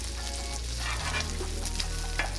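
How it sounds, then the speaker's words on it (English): Steady, close sizzling and crackling of bacon frying low on a grill, with a continuous low hum underneath and occasional small pops. "After about 3 minutes of frying your bacon low"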